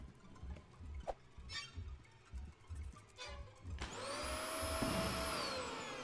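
Vacuum cleaner in the video game Kill It With Fire sucking up a spider: a steady, loud whooshing drone starts partway through and runs to the end, after scattered quieter game sounds.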